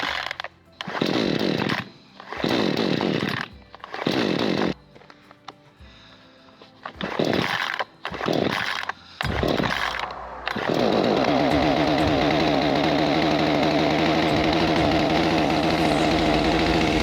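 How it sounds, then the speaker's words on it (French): A chainsaw held down on the ground by foot is pull-started, giving several short sputtering bursts and pauses before the engine catches and runs with a loud, steady buzzing idle. "On tient bien la tronçonneuse au sol comme ça avec son pied. Et on la démarre une fois."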